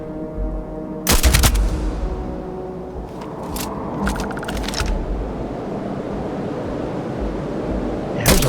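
Gunfire in the video game Starfield: a loud burst of rapid shots early on, then a few shorter clusters of cracks midway and one more at the end, over a steady rumbling background.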